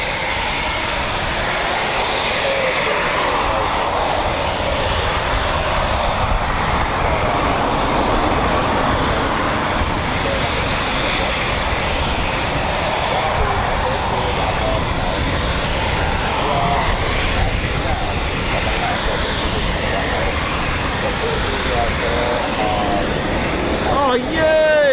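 A Eurofighter Typhoon FGR4 fighter jet at an RAF station gives off a continuous loud engine roar that holds steady for the whole stretch, rising slightly in intensity near the end.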